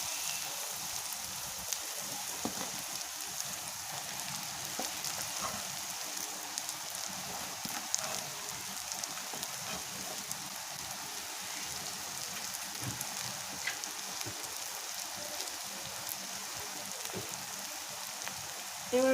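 Dried loitta fish tipped into a pan of frying spice paste sets off a steady, even sizzle that continues without pause throughout, close and moderately loud.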